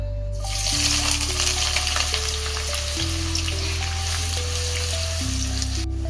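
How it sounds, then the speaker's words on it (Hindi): Finely chopped onions fry in a little oil in a pan, giving a steady, close sizzle for the whole stretch, with faint scraping stirs now and then and no talking. "मैंने इसमें थोड़ा सा ऑयल ऐड किया है और मैं इसमें बारीक कटी हुई 2 अदद प्याज शामिल करूंगा"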